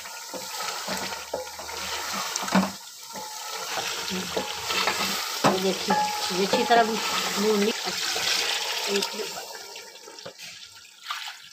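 Water splashes and rushes into a pot of cooked chillies for pulao, a steady pouring hiss with sizzling and clinks, while a person talks over it.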